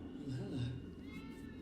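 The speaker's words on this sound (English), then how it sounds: "Cat." A cat meows in a scene from the TV series The Sandman, a short drawn-out cry heard close under a steady background of talk and sound.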